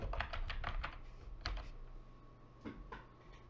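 Rapid keystrokes clatter on a computer keyboard while terminal commands are entered, a quick burst of clicks followed by a few scattered taps, close and fairly quiet.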